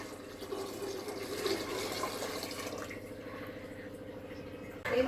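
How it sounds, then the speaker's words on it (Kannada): Water left from boiling legumes pours steadily into a pot of sambar for several seconds, a continuous splashing trickle that cuts off near the end. "ಆ ನೀರು ಸೇರಿಸ್ಕೊತಾ ಇದ್ದೀನಿ"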